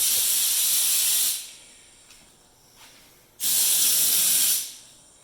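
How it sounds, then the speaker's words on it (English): Two loud bursts of hissing from a spray gun applying coating to a Jeep Liberty, each lasting over a second, separated by a quieter pause with faint background noise. "we'll let him go ahead and keep spraying on that."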